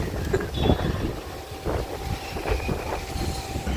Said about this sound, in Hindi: देखो कितनी तेज हवा चल रही है